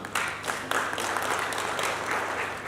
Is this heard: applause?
yes